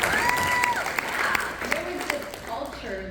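A summit audience claps and cheers in a lively, continuous burst of applause while voices talk and call out over it.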